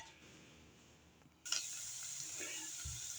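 Vegetables for cream of mushroom soup sweating in a pot: after a brief quiet start, a steady, soft sizzle and hiss sets in and continues evenly, with no talking.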